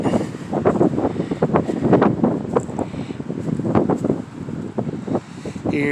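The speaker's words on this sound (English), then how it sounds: "I'm sure you can hear that wind." Outdoor wind buffets the microphone in irregular rumbling gusts, loud and close, with a low blustery roar throughout.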